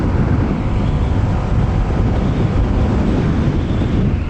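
Strong wind buffets the microphone in a steady, dense roar while riding a 2026 Honda Winner X150 underbone motorcycle past sugarcane fields, with no voices heard.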